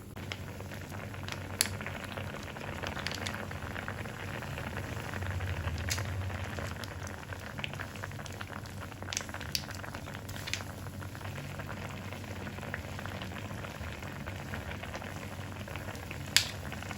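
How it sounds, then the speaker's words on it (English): Water boils steadily in a pot of tteokbokki rice cakes, a continuous bubbling rumble with scattered crackles and pops, close by and without voices. "you're supposed to boil the tok for 10 minutes"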